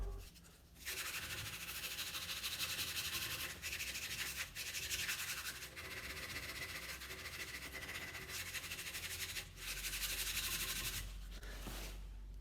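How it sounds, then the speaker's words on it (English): Sandpaper of 80 grit rubs steadily over a wooden spin top, making a continuous close scratchy sanding noise that runs nearly unbroken for the whole stretch, with only brief pauses. "So let me sand it out with 80, then we'll resume with 100."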